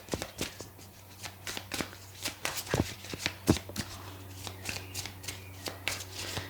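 Angel oracle cards being shuffled by hand, a close, brisk series of crisp riffling snaps and soft slides in an uneven rhythm over a low steady hum.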